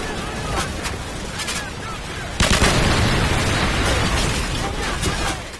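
RPG rockets explode during a swampy battle in the video game Modern Warfare, a loud, sustained roar of blasts mixed with gunfire that thickens midway into a dense wall of combat noise, with a voice talking over it.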